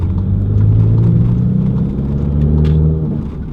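An MK7 Volkswagen GTI fitted with a BFI Stage 4 clutch kit and dual mass flywheel accelerates, its engine rumbling loud and close from inside the cabin with steady rising drone, easing off near the end.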